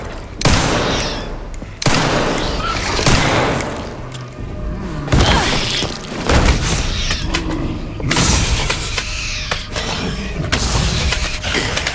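Gunfire in the video game Resident Evil Requiem: loud repeated bursts of shots and booming blasts in clusters across the stretch, with brief gaps between volleys and mechanical clatter.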